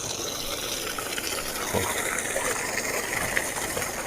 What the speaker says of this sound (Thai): แรงมากๆน้ำท่อสองนิ้ว